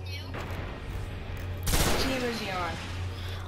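Rapid gunfire in the video game Destiny during a multiplayer zone-capture match, a burst of loud shots with a sharp blast in the middle, over steady background game noise.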